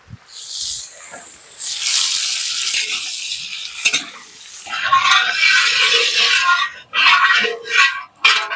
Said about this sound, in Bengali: ফুলকপিটাও এই তেলে ভেজে নেবো।